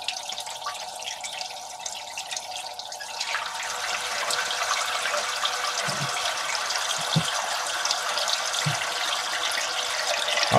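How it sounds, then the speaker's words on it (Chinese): Water runs steadily into a toilet tank after the supply valve is opened, a continuous rushing trickle that builds slightly, with a few faint drips and clicks near the end and no talk. "好，我们看到水就流下来了。"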